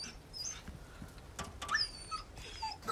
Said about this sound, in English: Wait, can I save the dog?